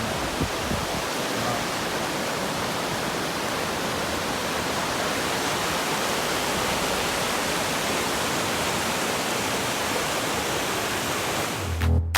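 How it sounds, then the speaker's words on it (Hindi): Glacier meltwater rushes in Shigar Valley near Skardu, a steady, loud, unbroken roar of flowing water that fills the whole stretch without pause. "नहायत ही खूबसूरत ग्लेशियर का पानी"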